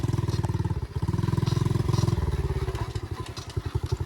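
A 110cc pit bike engine revs hard close by, a rapid buzzing putter that rises and holds, then falls back to a choppy, pulsing idle.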